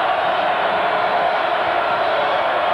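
A loud basketball arena crowd roars and cheers in one dense, sustained wall of sound at a 1991 college game between UNLV and New Mexico State, with no break across the stretch.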